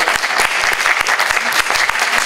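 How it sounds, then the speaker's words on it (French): Applause from the audience at a French rap documentary presentation, lively and close with individual sharp claps standing out within the crowd's clapping. "Applaudissez-les"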